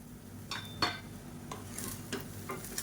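A utensil stirs cauliflower egg rice and chopped coriander in a pan, giving quiet scrapes and a few sharp metallic clinks at irregular intervals over a low background hum.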